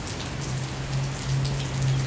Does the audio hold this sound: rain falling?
yes